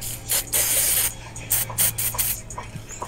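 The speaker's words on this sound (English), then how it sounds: "just spray WD-40 inside here and then just slide the grip on" WD-40 spray can hissing in short bursts into a dirt bike handlebar grip on a 2021 Honda CRF110, close and loud, with a low steady hum underneath; no talking.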